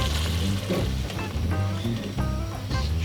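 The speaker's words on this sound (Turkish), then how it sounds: "şu anda bu pirincime bu etlerin suyunu koyuyorum efendim" Meat broth poured onto hot rice for Ankara tava sizzles and bubbles loudly up close, a crackling fry with faint clinks and background hum.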